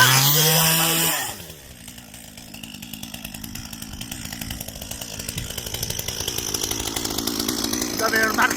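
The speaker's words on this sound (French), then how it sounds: "vous avez remarqué, la tronçonneuse, elle peut vous embarquer" A chainsaw starts up and runs steadily while trimming a hedge, a loud close buzzing drone that revs slightly higher toward the end; a brief voice is heard just before it starts.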